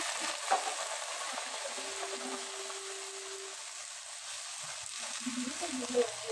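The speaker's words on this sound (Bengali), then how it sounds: "পেঁয়াজটা ব্রাউন কালার হয়ে গেছে, এখানে সবজিগুলো দিয়ে দিচ্ছি।" Vegetables tossed into a pan of browned onions frying in oil, giving a steady, close sizzle throughout with faint stirring clatter and no talk.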